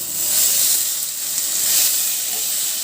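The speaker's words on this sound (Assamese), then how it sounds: "অলপ ভজাৰ পাছতে ইয়াত বইল কৰা আলুখিনি দিব লাগিব।" Boiled potatoes fry in a pan of oil alongside coriander leaves, giving a steady, close sizzle and hiss with no break and no talking.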